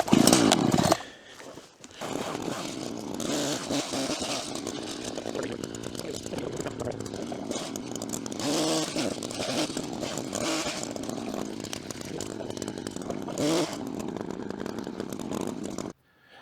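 A chainsaw cuts hardwood in a woodlot: after a brief loud burst and short pause, the saw roars continuously and close by, its pitch wavering as it bites into the wood.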